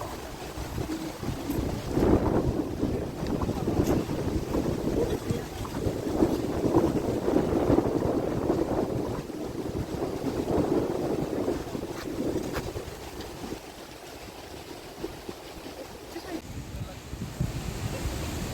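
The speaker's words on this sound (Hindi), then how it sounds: "हवा बहुत तेज़ चल रही है" Strong wind roars into the microphone at Radhanagar Beach on Havelock Island, a continuous gusty rumble with surf in the background and someone talking throughout.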